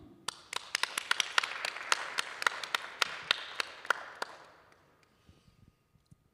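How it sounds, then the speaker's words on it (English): Online workshop participants clap, a sparse round of individual sharp claps in a quick irregular rhythm that thins out and fades after about four seconds, fairly faint and heard without talk. "I think we need applause,"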